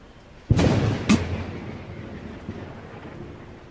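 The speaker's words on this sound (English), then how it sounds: "As I heard the lightning strike from outside" A sudden lightning strike answered by thunder in an animated scary story, with a loud sharp crack, a second boom a moment later, and a long rolling rumble fading into quiet.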